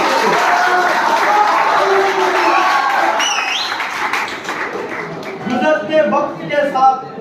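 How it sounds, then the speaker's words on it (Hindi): Audience applause at a Teachers Day celebration at an engineering college, a broad wash of clapping mixed with crowd noise and overlapping voices, with cheers and whistles rising near the end. "जोरदार तालियां हो जाए"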